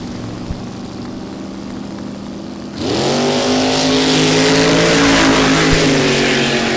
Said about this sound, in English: Tyson on the left side with the S10 truck, going first by 600ths, dialed at 645 against the SDRA car out of Owasso, Oklahoma